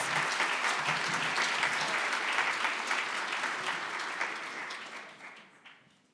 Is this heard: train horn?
no